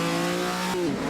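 Race car engine in Assetto Corsa, a 1948 Gran Premio di Napoli post-war racer, revving hard and steady with a buzzing, slightly wavering pitch that dips near the end, loud and close throughout.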